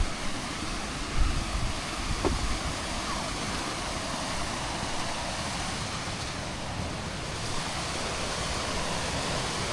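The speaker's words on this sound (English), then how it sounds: "It's a little waterfall, it's tiny" A tiny waterfall on a small stream gives a steady, soft rush of falling water close by, continuous and even throughout with no talk.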